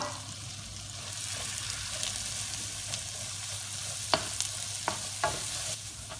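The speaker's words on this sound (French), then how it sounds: "Dans une grande poêle, vous faites fondre environ 50 g de beurre. Ensuite, vous y plongez les oignons." Onions cooking in about 50 g of melted butter in a large frying pan, a soft, even sizzle with a few sharp scrapes of a utensil toward the end, with no voices.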